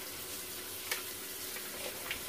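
Cold tap water runs steadily over edamame in a colander, making a soft, even hiss that stays quiet and constant throughout with no voices.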